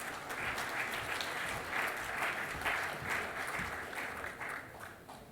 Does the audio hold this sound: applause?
yes